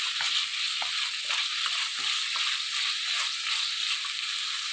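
Tomato, onion, green chili, mint and coriander sautéing in a pan, a steady close hiss of frying with light stirring scrapes running throughout, no voices.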